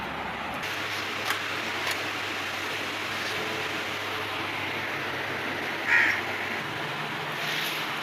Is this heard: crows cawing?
yes